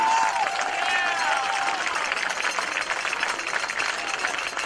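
Stadium crowd applauding at a college football game between the Judson University Eagles and Madonna University, a steady wash of distant clapping and crowd noise with faint tones over it, sustained evenly throughout.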